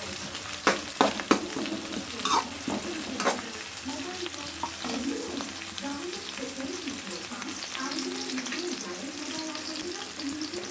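Brinjal (eggplant) pieces for a mixed vegetable curry fry quietly in a pan with a soft, continuous sizzle, while a spoon stirs and scrapes them in sharp clicks and scuffs, mostly early on.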